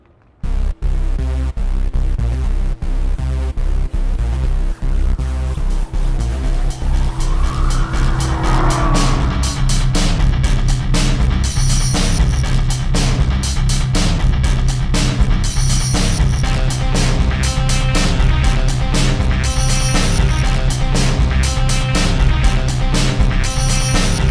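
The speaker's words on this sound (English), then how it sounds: "to test one of the fastest cars in the world, the McLaren MP4 12C" A 2013 McLaren MP4 12C sports car drives hard on a racetrack, its engine roaring loudly and continuously with gear changes and a brief tire squeal, close to the microphone throughout.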